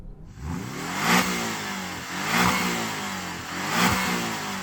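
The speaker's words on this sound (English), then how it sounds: "Shall we have a listen to that 4-cylinder? Go on, 4-cylinder Cayman." A Porsche Cayman four-cylinder car engine revs hard three times in a row, each rise peaking with a raspy, buzzy note before dropping back.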